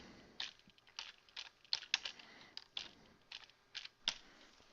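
Typing short text on a computer keyboard, a series of separate crisp key clicks at an uneven pace with brief gaps, close and fairly quiet, no one speaking.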